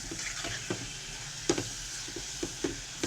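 A spatula stirs spring roll filling in a hot pan, giving a soft steady sizzle punctuated by several light scraping knocks at irregular intervals, quiet and close with no voices.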